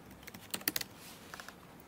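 A website address being typed on a computer keyboard: a quick burst of close key clicks, then a few lighter taps after a short pause, with no talking over them.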